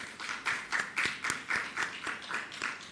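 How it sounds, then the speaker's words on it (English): A few people clap in a briefing room at a post-cabinet press briefing, roughly ten soft, evenly spaced claps that come across thin and somewhat distant, with no talk. "I think that deserves a clap."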